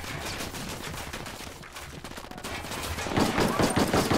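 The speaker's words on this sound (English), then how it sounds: "Pop it off some shots" Rapid automatic gunfire crackles in Ghost Recon Wildlands, dense bursts of shots throughout that grow louder and denser toward the end, with faint voices underneath.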